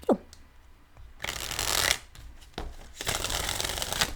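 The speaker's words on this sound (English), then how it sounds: "We're doing one more shuffle" Cards being shuffled up close: a quick riffle, a pause, then two longer bursts of flapping, fluttering card noise.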